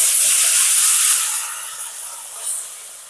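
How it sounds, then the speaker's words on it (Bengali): Boiled milk is poured into semolina in a hot pan, giving a loud, steady sizzling hiss that eases off slightly toward the end, with no talk. "এবার দুধটাকে আমি ঢেলে দেব।"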